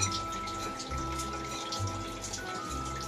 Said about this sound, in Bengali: তুমি দয়া করে কলটা একটু বন্ধ করো, জল পড়ে যা ভালো লাগে না আমার